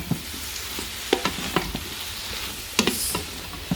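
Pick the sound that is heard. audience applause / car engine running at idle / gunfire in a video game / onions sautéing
onions sautéing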